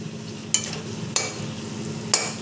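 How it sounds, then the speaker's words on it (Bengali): Chopped tomato with spices cooks in a pan, giving a low, steady sizzle. Three sharp scraping clicks from stirring come at regular intervals. "টমেটো কুচিটা দিয়ে আবারও কষাবো।"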